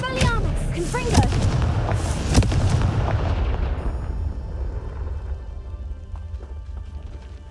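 Confringo fire spells go off in Hogwarts Legacy as a rapid series of loud explosive booms and crackling impacts in the first half, trailing off into a ringing, fading tail.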